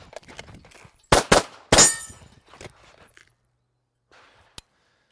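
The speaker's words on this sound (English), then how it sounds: "So shoot appropriately and exit at the brake." Several sharp shots from a handgun fired during a trigger break drill at close range, a quick cluster of loud cracks followed by a single fainter report, with faint movement between them.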